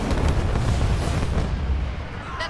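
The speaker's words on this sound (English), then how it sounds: "Isabel, launch Archer missiles now." Archer missile strike in the video game Halo Wars 2: a loud, rumbling barrage of booming explosions that rolls on continuously, then tapers off toward the end.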